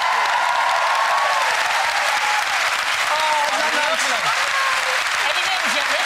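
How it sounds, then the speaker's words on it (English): A studio audience at a TV game show bursts into sustained, loud applause that holds steady throughout without letting up. "give her a big round of applause"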